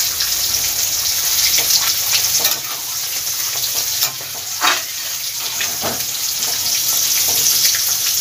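Hot water poured into simmering moong dal with vegetables hisses and sizzles in a pan, a busy bubbling wash with a few brief clinks and splashes along the way.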